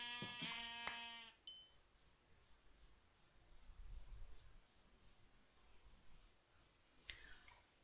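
Minecraft sheep let out a couple of quick stuttering bleats at the start, followed by another faint bleat near the end over soft game ambience.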